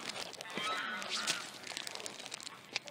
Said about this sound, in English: He's really a strong goose.